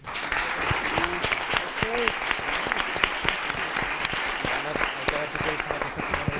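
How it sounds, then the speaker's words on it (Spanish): Conference audience applauding a speaker, steady dense clapping from a large crowd, with voices chattering underneath the applause throughout. "despedimos a la ponente con un fuerte aplauso."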